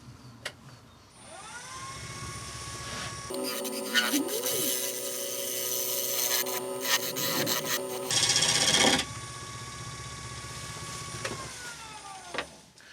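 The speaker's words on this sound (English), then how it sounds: "it can be used like a shear scraper and leave really quite a fine finish on things" A carbide tool shear-scrapes yew wood spinning on a lathe, making a close, steady scraping rasp that lasts several seconds over the low hum of the running machine.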